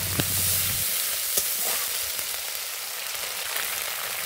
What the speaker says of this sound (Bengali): পেঁয়াজটা একটু ভাজা ভাজা হলে দিয়ে দিচ্ছি মশলা ধোয়া জল একটু, যাতে এগুলো পুড়ে না যায়